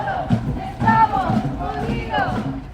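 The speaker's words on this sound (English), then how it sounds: "These are the chants of a crowd of around 40 people who marched in front of the immigrant lockup in Tacoma this afternoon." Roughly forty protesters chant together outdoors while marching at a rally in front of an immigrant detention center in Tacoma, their voices blending into a short, rising and falling group chant.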